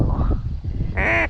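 Mallard ducks call near icy water during an ice storm, with low rustling and splashing, then a short, bright, nasal quack close by at the end.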